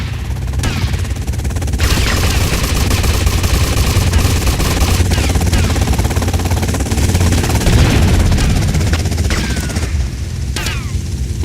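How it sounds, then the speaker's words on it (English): Helicopter rotor drone in GTA Vice City on PC, a dense, loud roar mixed with bursts of automatic gunfire and crashing impacts throughout. "They've got a helicopter."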